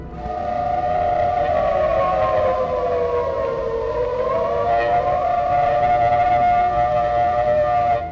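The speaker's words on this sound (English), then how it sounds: "Air raid sirens were actually designed during World War I." A World War II–era air raid siren wails loud and continuous, its pitch sagging slightly in the middle before rising again, a sustained mournful tone with no voices over it.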